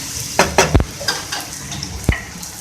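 Beaten eggs poured into a pan of softened, sizzling tomatoes for an egg potato omelette, giving a steady frying hiss with a few sharp clinks and scrapes of a spoon against the pan.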